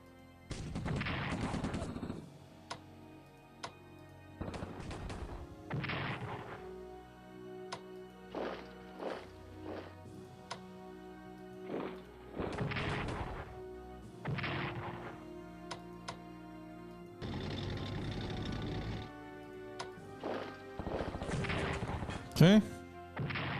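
Heavy artillery fire in the WWII strategy game Strategic Command booms repeatedly in heavy bursts, with crashing impacts recurring every few seconds over a continuous low rumble.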